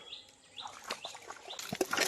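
Birds call faintly from a tree beside a river in the Sundarbans: a few short, thin chirps and twitters over a soft outdoor background, lasting only about two seconds.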